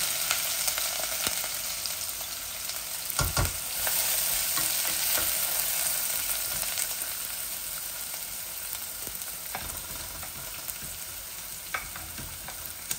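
Onions frying in a hot pot, a loud, steady sizzle that stays dense throughout, with a few clanks and scrapes of a utensil against the metal.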